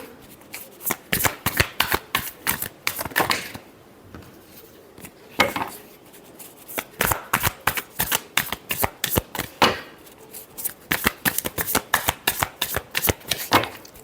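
Tarot cards shuffled by hand in fast, crisp bursts of riffling slaps that pause briefly and resume, close and loud, with no talking over them.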